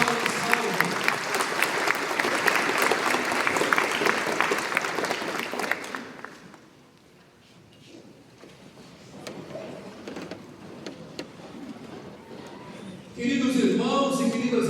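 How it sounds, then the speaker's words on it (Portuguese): A church congregation at a novena in a parish applauds together, dense sustained clapping that fades out after about six seconds, followed by quieter room noise and a voice speaking near the end. "Uma salva de palmas ao Santo Deus."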